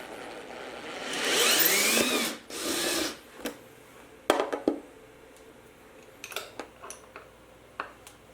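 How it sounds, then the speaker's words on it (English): A step drill bores a 22 mm hole for industrial switches while installing a Cincoze P2002 panel PC: two loud, steady whining bursts of drilling, followed by scattered sharp clicks and taps up close. "To make the 22mm hole for the switches, I use a step drill followed by a die."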